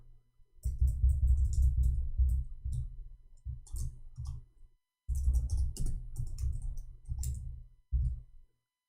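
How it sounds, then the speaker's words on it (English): Fingers type a chat message on a computer keyboard in two clattering runs of quick keystrokes separated by a short pause, close and fairly loud with dull desk thumps beneath the clicks. "I'm going to type it for you."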